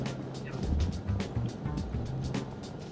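A boat motors under engine power, a steady low drone mixed with water wash and wind noise, continuous and fairly close.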